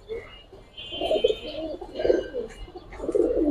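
Giribaz high flyer pigeons kept in pairs coo in low rolling bursts, close and moderately loud, with a thin high chirp sounding above them.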